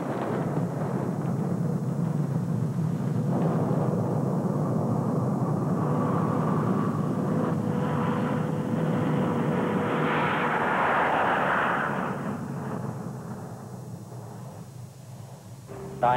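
A C-130 Hercules military transport aircraft drones with a loud, steady engine roar heard from nearby, swelling slightly toward the middle before easing off near the end.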